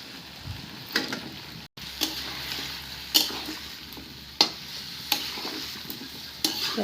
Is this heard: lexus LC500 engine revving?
no